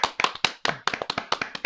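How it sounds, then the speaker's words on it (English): A small group of boys clap by hand for a mock award, about a dozen sharp, uneven claps in a quick burst, close and loud with no talk over them. "Give him a round of applause"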